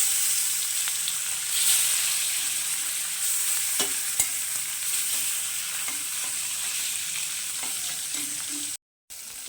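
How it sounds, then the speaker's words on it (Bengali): A steady, close sizzle of bhola fish frying in oil, with scattered pops and light scraping, running on without speech before a brief dropout. "এবার বাকি মাছগুলোকেও আমি ভেজে নেব"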